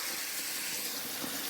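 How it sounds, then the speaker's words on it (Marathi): Water runs steadily from a farm pipe fed by a motor, a constant broadband rush with no pauses, heard alone without talk. "नळ्यातलं पाणी"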